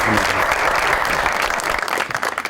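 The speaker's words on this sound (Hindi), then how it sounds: "बहुत सारी तालियां" A television talk show studio audience breaks into dense, loud applause that carries steadily throughout before easing slightly at the end.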